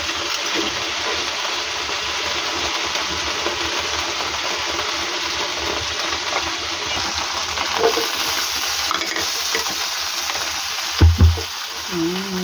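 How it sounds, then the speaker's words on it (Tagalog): Onions frying in a pan as topping for fork steak, a loud broad steady hiss of sizzling oil throughout, with a couple of heavier knocks near the end. "Pirito muna natin ang ating onion."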